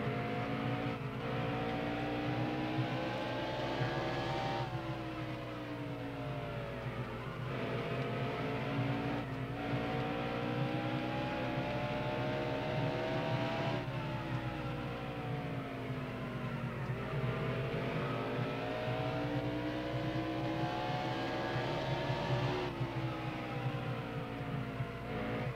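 Race car engine running a lap at Bristol in NASCAR Heat Evolution, a steady loud drone whose pitch climbs and drops repeatedly as the car accelerates down straights and eases into turns, continuous with no talk.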